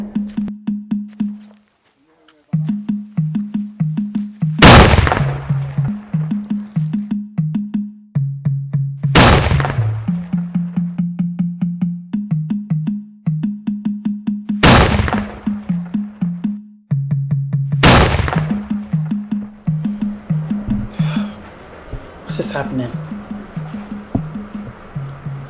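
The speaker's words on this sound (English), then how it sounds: "First it was the sound of the ancient echo, and now the cannon." Cannon fire as a dramatic sound effect: four heavy booms several seconds apart, each a sharp loud blast that decays slowly, plus fainter thuds near the end, over a steady low droning backdrop.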